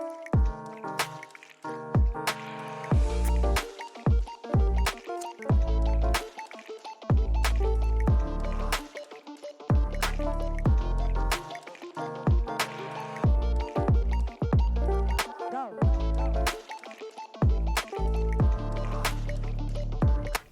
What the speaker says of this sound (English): they're quickly mixing up a blend of top coat and chip